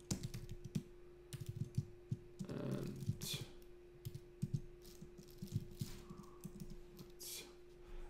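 Typing on a computer keyboard while writing an image tag in an email template, with quick clusters of soft, close key clicks in irregular bursts and brief pauses.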